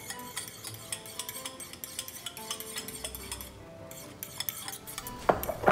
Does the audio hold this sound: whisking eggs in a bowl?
yes